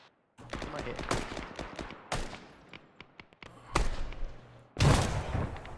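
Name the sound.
machine gun fire in an Arma video game co-op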